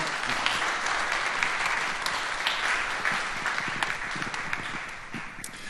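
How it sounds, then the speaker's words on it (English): An audience at a blockchain meetup in Munich applauds a speaker, a continuous wash of many hands clapping at even loudness that tapers slightly toward the end, with no talking. "a big applause, please, for him"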